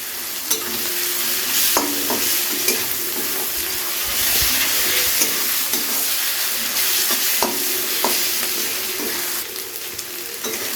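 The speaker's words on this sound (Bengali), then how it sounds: "রসুন বাটাটা দিয়ে খুব ভালো করে একবার পেঁয়াজের সাথে ভেজে নেবো" Garlic paste frying with onions in a pan, a steady loud sizzle with repeated stirring scrapes and utensil knocks, for a Bengali fish-head chhyachra dish.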